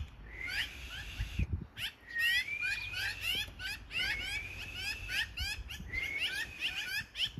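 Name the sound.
magpies calling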